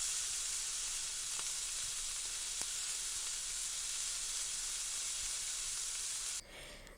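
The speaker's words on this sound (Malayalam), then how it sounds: "ചൂടായ ചട്ടിയിലേക്ക് വെളിച്ചെണ്ണ ഒഴിച്ചു കൊടുക്കാം." Coconut oil sizzles and hisses steadily in a hot pan for a sardine curry, a bright, even crackle that holds nearly to the end before dropping off abruptly.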